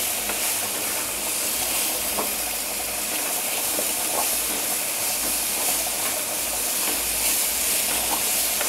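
Chicken coated in chicken powder is tossed and stirred in a hot pan, a steady close hiss of frying with faint scraping through the whole stretch, no voices.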